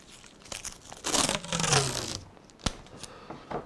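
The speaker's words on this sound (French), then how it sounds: "si on applique du ruban à masquer, je vais vous donner un exemple" Masking tape peels and crackles as it is pulled and pressed onto a cardboard canvas board for acrylic painting, a close, crinkly rasp building for about a second, then a sharp tap and softer rustles.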